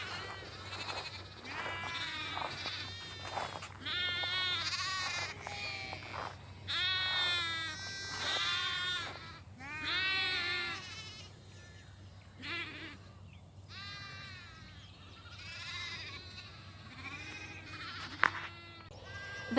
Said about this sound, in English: since this is a decent sized group of sheep